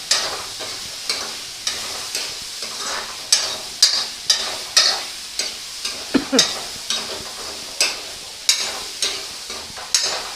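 Spicy Thai holy basil stir-fry being tossed in a hot pan, with a bright continuous sizzle punctuated by regular, loud spatula strikes and scrapes, close up and without talk.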